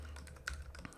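Code is typed on a computer keyboard in a quick, quiet patter of close key clicks, a short burst with no speech.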